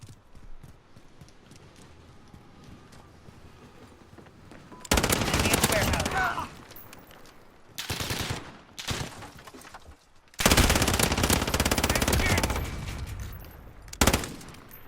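Finn LMG light machine gun in Call of Duty Modern Warfare, fitted with a flash guard, firing loud sustained bursts close up, the first and last bursts long and a few short ones between, with quiet gaps separating them.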